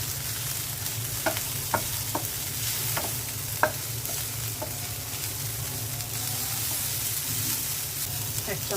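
Steady sizzling of oil in a pan as coriander leaves are fried and stirred, with a handful of light utensil taps scattered over the continuous hiss.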